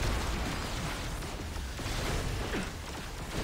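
Explosions and combat effects from the action game Marvel Heroes 2015 form a dense, steady wash of blasts and bursts, loud throughout with no pauses and no voices.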